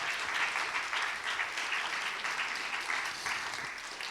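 Steady applause from a congregation at a Friday worship service, dense clapping holding evenly throughout at moderate volume with no talking.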